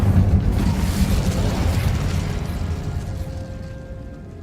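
Incendio fire spell cast in Hogwarts Legacy: a loud, dense burst of roaring flame that swells at once, then rumbles on and slowly fades, with a faint tonal ring emerging toward the end.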